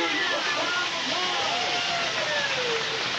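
Steam hissing from a steam locomotive on a prairie excursion train, a broad steady hiss with faint whistle-like tones running through it, fairly loud and continuous.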